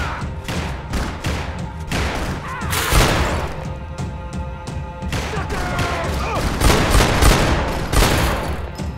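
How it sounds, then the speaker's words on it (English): Rapid overlapping gunfire from a window during a shootout in the game Max Payne 2, dense, loud volleys with thuds and crashes running throughout, a voice briefly audible underneath. "they're shooting from the window"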